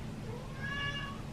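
A house cat meows for attention, a short drawn-out cry at moderate distance over a low background hum, heard alone.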